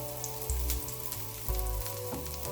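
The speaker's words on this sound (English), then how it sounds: "Sauté the garlic in the same pan to release its aroma and give the sauce a rich, savory flavor." Garlic sautés in a hot pan used for a salmon sauce, crackling and sizzling steadily up close over a low humming background, with no voices.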